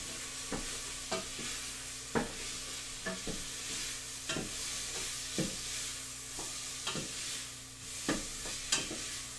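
Onions sizzle steadily in a pan in a cooking video game, with repeated sharp stirring clicks and scrapes landing every second or so over the constant frying hiss.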